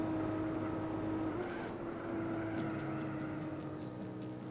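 A Renault Clio V6 races around the Nürburgring in Gran Turismo 4, its engine a steady, continuous drone with slowly shifting pitch, heard alone without any voices.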